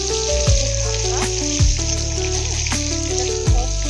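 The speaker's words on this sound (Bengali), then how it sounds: "মাছটাকে হালকা একদম নরম ভাজা করে নিচ্ছি।" Turmeric-coated fish frying in hot oil, a steady loud sizzle throughout with a few sharper clinks or stirring taps at intervals, no talk.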